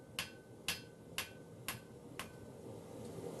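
Five evenly spaced hammer blows ring on hot steel as a knife blade is forged on an anvil, sharp metallic strikes about half a second apart, then a low hum of the workshop.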